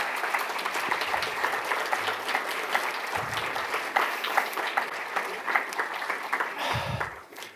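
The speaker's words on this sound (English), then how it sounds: "I'd like you all to give Evelyn a real round of applause." Applause at a centennial celebration for the painter Richard Pousette-Dart fills the room, a sustained crowd of clapping hands that runs steadily, then tapers slightly near the end.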